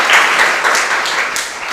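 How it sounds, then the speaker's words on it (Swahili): A classroom bursts into steady applause for a student, Mary Michael, a dense close-up patter of many hands clapping for a couple of seconds without letup. "Pigeni makofi kwa niaba yake."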